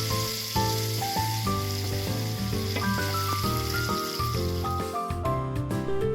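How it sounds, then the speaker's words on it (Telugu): A tempering of asafoetida, curry leaves and dried red chillies fries in hot oil for a raw mango and coconut chutney. A steady sizzle sits under prominent background music. "తర్వాత ఇంగువ కూడా వేసుకొని కరివేపాకు కూడా వేసి బాగా ఫ్రై చేయండి"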